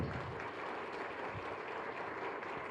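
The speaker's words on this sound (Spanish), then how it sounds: "El fuerte aplauso para todos ustedes." Congregation applauding at the close of a Sunday Mass in the Chapel of Our Lady of the Assumption, a steady wash of clapping filling the room at moderate, even level without a break.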